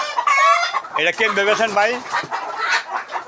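Large roosters and hens at a poultry sale clucking close by, a quick burst of loud cackles and calls mixed with a voice talking.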